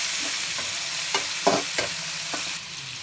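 Tomato and onion fry in a pan with a steady loud sizzle, while a spoon stirs through them in several soft scraping strokes.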